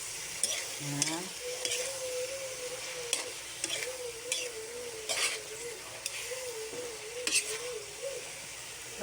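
Food frying in a pan is stirred and mixed with a utensil, giving a steady sizzle broken by repeated scraping strokes, while a person talks throughout.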